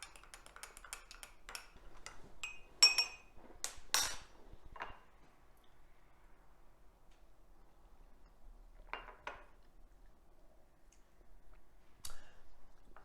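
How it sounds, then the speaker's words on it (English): A spoon clinks against a glass while a Nespresso Scuro espresso drink is stirred, a fast cluster of bright taps at first, then a few isolated clinks, close and quiet with no talking. "All right, let's stir this in real quick."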